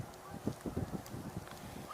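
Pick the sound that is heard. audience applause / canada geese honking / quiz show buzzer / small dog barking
canada geese honking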